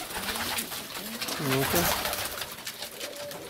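Domestic pigeons coo in a loft, a couple of soft rolling calls rising near the middle over a steady background murmur, with a man's brief spoken word close by.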